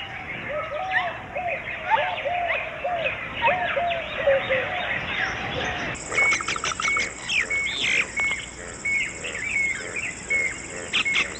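Red-vented bulbul and forest myna birds calling close by in a monsoon forest, a busy mix of chirps, squawks and whistled notes, with a steady insect-like high buzz joining partway through.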